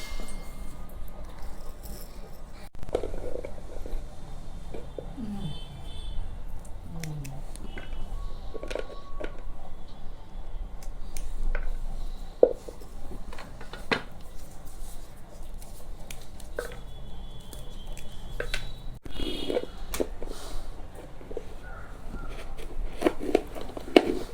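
Vegetables for aviyal are cut up in a home kitchen, giving a long run of quiet irregular knife crunches and taps with small clatters, fairly close and low in level.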